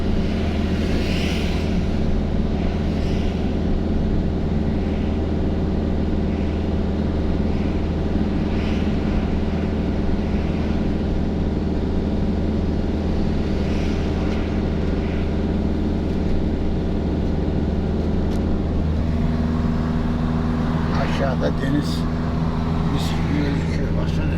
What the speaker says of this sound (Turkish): Araba baksana araba.